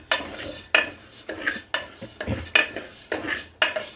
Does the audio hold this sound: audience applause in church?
no